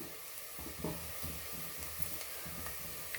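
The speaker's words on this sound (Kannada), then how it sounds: "ನೋಡಿ, ಚೆನ್ನಾಗಿ ಫ್ರೈ ಆಗ್ತಾ ಇದೆ." Onions frying crisp in a pan for onion pulao, giving a low continuous sizzle and hiss with occasional stirring knocks, close but faint and without talk.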